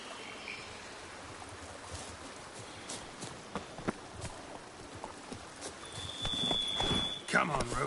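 Roach, a horse in The Witcher 3 played on PS5, clops along with soft, uneven hoofbeats under faint ambient game sound, growing a little louder toward the end.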